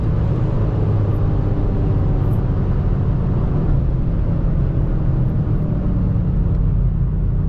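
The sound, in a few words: BMW M5 G90 2025 engine upshifting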